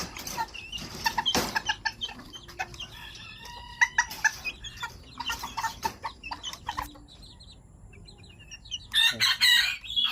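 A flock of Serama bantam chickens clucks busily while being fed malunggay leaves, close by and lively. Scattered clucks come in bursts, with a rooster crowing in the mix and a louder flurry near the end.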